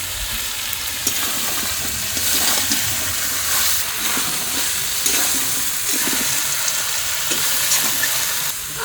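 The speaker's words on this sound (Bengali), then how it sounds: "এখন কেটে রাখা পেঁপেগুলো দিয়ে দেবো।" Cut raw papaya pieces drop into a hot frying pan, giving a steady, loud sizzle of frying with occasional stirring scrapes throughout.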